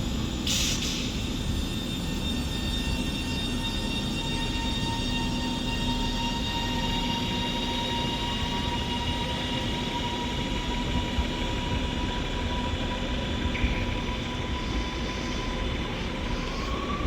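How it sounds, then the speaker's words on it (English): Double-headed Northern class 331 electric trains depart Manchester Oxford Road on a cold day, a steady loud rolling rumble with a rising whine that holds for the whole stretch, and no talk over it. "these double-headed and Northern 331s are ready to go now."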